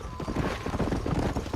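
Horses in the Red Dead Redemption video game clip-clop in a quick, steady rhythm of hoofbeats, close and fairly loud, with no talk over them.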